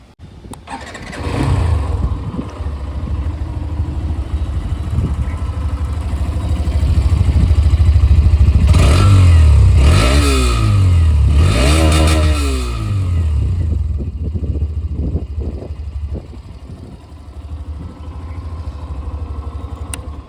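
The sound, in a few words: Hero Xtreme 125R motorcycle engine starting and revving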